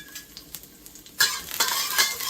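Chopped ginger and garlic hit hot oil in a wok, starting with light clinks before a loud sizzle bursts in and continues under quick stirring strokes, close up with no voices.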